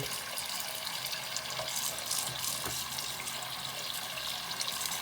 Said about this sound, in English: the water will start flowing all by itself